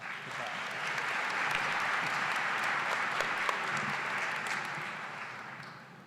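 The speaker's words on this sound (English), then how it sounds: "Let's give them another round of applause." A community college graduation audience gives a sustained round of applause for honor society members, dense crowd clapping swelling and holding steady for about six seconds, with a few voices faintly mixed in.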